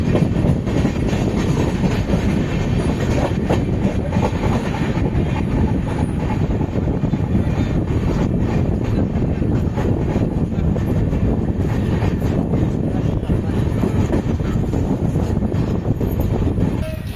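The Kovai Express passenger train runs along the rails in India with a loud, continuous rolling rumble and a faint rhythmic clatter of wheels that holds steady throughout.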